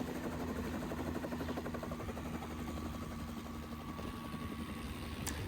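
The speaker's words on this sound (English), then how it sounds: "We had to have a helicopter come and spray fungicide on our corn." Steady, loud crop-dusting helicopter rotor drone with a constant engine whine, continuous throughout and fairly close, no voices, as it lands on a truck to reload fungicide for spraying corn.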